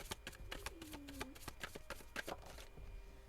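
Tarot cards being shuffled by hand, a quick run of crisp riffling flicks and slaps, close and quiet, with a faint whine underneath.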